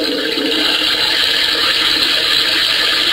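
Artificial flushing sound from an Otohime toilet device in a restroom, a steady continuous rush of water noise that fills the whole clip at an even, fairly loud level with no speech.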